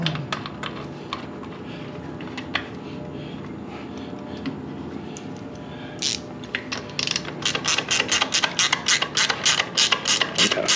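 A ratchet tightening bolts while a fuel pump is installed on a Caterpillar 3208 diesel engine, with quiet handling at first and then rapid rhythmic clicking bursts, close and clear, with no talk.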